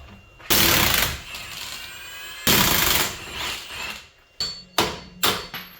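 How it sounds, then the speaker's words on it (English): Lower strut bolts on a 2005-2009 Hyundai Tucson are broken loose with a 19mm socket and a 17mm wrench, heard as two long loud bursts of rattling tool noise, then several shorter sharp bursts, close by. "I'm going to use a 19mm socket and a 17mm wrench to blast these two lower strut bolts off."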